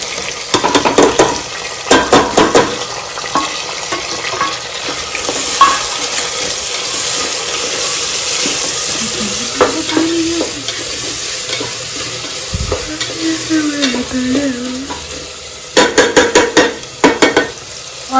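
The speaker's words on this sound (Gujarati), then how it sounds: "અને હવે ભાઈ તેલમાં થોડી વાર ચડવા દેશું" Chilies, tomatoes and onions sizzle in hot oil alongside potatoes in a pan, with loud bursts of stirring and scraping near the start and end and a steady frying hiss between.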